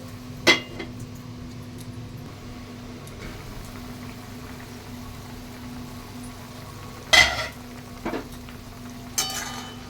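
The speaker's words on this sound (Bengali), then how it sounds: "আমড়াটা আমার ফুটছে, আর একটু হবে।" Hog plum boiling in a pot gives a soft, steady bubbling simmer throughout, with a few sharp utensil knocks against the pot scattered across the clip.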